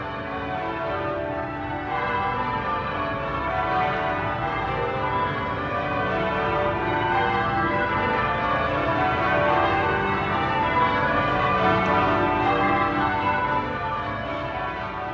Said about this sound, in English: what you have here is actually original recording of Westminster bells